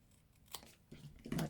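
Scissors trim paper at a stamping and die-cutting craft table, giving a few short crisp snips and crinkles, close by and fairly quiet.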